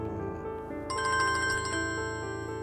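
A mobile phone ringtone plays loud and close, a steady electronic melody that swells partway through and runs without a break, with no talking over it.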